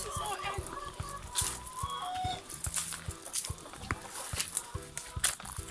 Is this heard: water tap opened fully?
no